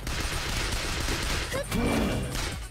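Gunfire in the zombie shooter game School Girl Zombie Hunter, a dense continuous burst of shots filling the clip with a brief whine near the end, loud and close.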